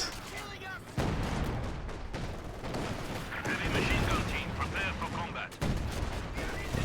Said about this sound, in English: This is barrage